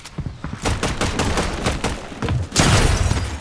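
Pump shotgun fire in the Fortnite video game: a loud, rapid series of gunshot bursts that ends in a denser volley of blasts, with no talk.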